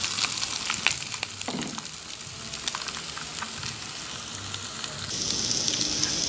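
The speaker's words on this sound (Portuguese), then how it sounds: "aqui eu vou deixar dando uma fritura na calabresa junto com as verduras que eu coloquei" Calabresa sausage frying with vegetables in olive oil in a pan, a steady close sizzle and crackle running the whole time with occasional stirring clatter and no talk.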